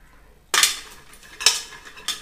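A spoon stirring jaggery-coated popcorn in a pot: three clear scraping clinks against the metal, close and fairly loud, separated by short pauses, with no talk.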